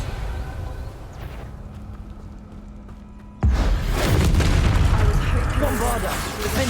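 Bombarda blasting spell in the Hogwarts Legacy video game, a sudden loud explosive boom bursting in midway after quieter game noise, followed by sustained crackling blast and rumble, with some speech.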